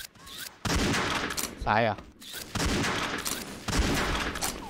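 Gunfire in an XSHOT shooter game rattles almost continuously in loud bursts, with a short break and a warbling effect in the middle. Someone speaks briefly over it.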